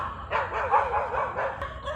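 Several dogs barking and yipping at a rural Filipino home, a continuous overlapping chorus at moderate distance, fairly steady with no speech.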